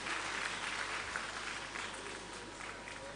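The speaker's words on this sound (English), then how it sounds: "A round of applause for them as they take their group photograph." Audience applause at a conference session for the departing panelists and moderator, a steady, dense wash of clapping from a crowd filling the whole stretch at moderate level, with faint background voices mixed in.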